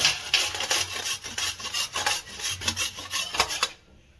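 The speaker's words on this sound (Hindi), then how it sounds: "घिस गई है हमारी सारी गाजर।" Carrots scraped on a hand grater over a small shallow pan for carrot halwa, a steady close rasping rhythm of quick strokes that stops abruptly at the end, with no talk.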